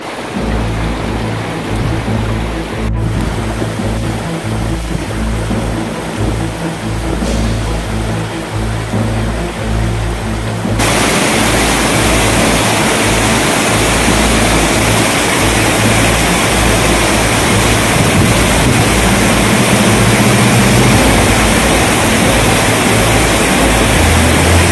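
A waterfall on the trail to Sky Pond in Rocky Mountain National Park roars as a dense, steady rush of falling water, loud and close, growing fuller and broader partway through, with no voices.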